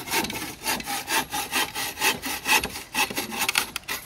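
A hand saw cuts through old wood during a raft-building contest, rasping in steady back-and-forth strokes, about two per second, close up and clear with no talk.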